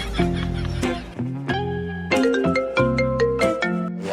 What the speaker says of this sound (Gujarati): પાછો ફોન આવી ગયો.